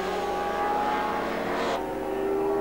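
1993 Mercedes DTM touring car of Alzen at the Nordschleife, a sustained engine drone with a steady high tone, loud and close, shifting pitch slightly near the end.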